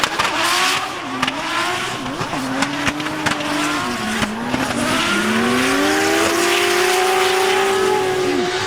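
A drift car at a French Drift Championship round screams at high revs, the engine pitch climbing and wavering while the tires squeal steadily through a long slide, loud and close throughout.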